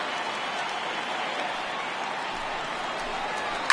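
Dense stadium crowd of over 39,000 cheering and on their feet at a baseball game in MLB The Show 18, a steady broad roar holding level throughout.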